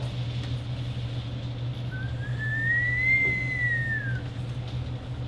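A single long whistle rising and then falling in pitch over a few seconds, heard over a steady low hum of background noise.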